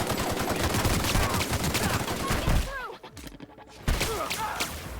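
Rapid gunfire in The Outer Worlds while fighting rats in a basement, dense bursts of shots rattling continuously before a brief lull, then firing resumes with distant chirping squeaks.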